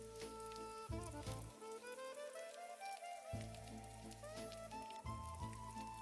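Soft, steady evening rain over a Paris city scene, a faint continuous patter heard quietly beneath gentle sustained musical tones.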